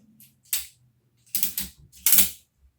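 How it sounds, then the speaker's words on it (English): Ratchet strap cinched tight around a table, heard as three short bursts of clicking ratcheting, each sharp and close, with near-silence between pulls. "ratchet it really tight so there's really no more movement at all"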